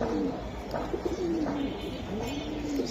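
A Giribaz pigeon, a flying breed, coos in a soft repeated, rolling pattern close by, with steady background noise throughout.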